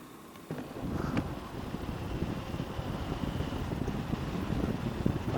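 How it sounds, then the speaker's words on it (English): Steady wind buffeting a rider on a motorcycle at night, a dense continuous roar with gusty low rumble throughout and no speech. "it's a bit blowy"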